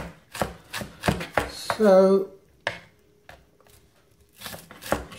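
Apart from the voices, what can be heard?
chopping onions with a knife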